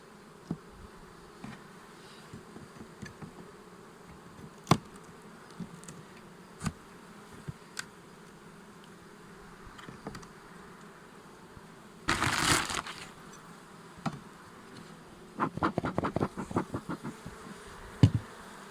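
Bees hum steadily at a low level, broken by occasional clicks and knocks and a few louder bursts of rattling and scraping.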